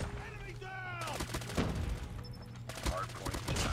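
An M13 assault rifle fires in COD Mobile in rapid automatic bursts with a high rate of fire, crisp and close, broken by short pauses. Other game effects and a voice sit faintly underneath.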